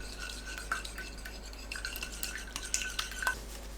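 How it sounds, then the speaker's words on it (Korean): Eggs are whisked on a plate: light, quick scraping and clinking of a utensil against the dish, soft and close, with irregular taps and no voices. "넓은 접시에 계란을 풀어주세요."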